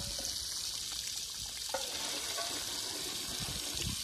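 Clean, cold mountain water splashing and trickling as a container is filled outdoors on a hillside, a continuous wet rushing with small gurgles, close and fairly loud.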